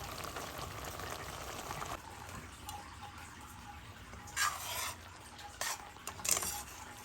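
Papaya and cashew chutney in sugar syrup gets stirred in a pot. Soft scraping and clinking of a spoon against the pan come in short bursts over a quiet, faint bubbling background.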